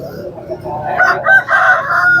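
An Aseel rooster crows nearby at a poultry market, loud and drawn out, with a rising then wavering call over faint background noise.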